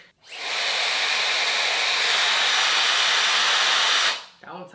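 A Shark Flex hair dryer spins up quickly and blows with a strong, even, loud rushing roar for about four seconds before cutting off, followed by a short voice.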